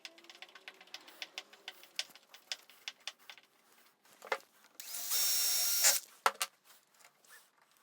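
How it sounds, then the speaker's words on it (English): Drill driving screws while fitting a night latch, one brief loud whirring burst among quiet clicks and handling taps, close and otherwise hushed. "So now we can get the screws back in there."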